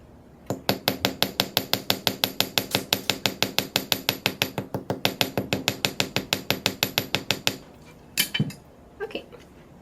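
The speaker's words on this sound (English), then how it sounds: "notice I'm only hammering one side of the metal" Rapid, evenly spaced hammer strikes ring out on silver metal resting on a metal bench block, dozens of sharp bright clinks in steady rhythm for about eight seconds, then a few scattered taps.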